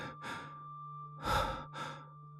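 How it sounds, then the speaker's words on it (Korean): A woman breathes roughly and irregularly in a played recording, four ragged breaths, the third the loudest, with a steady low hum underneath. "끔찍하도록 건조하고 불규칙한 한 여성의 거친 숨소리였다"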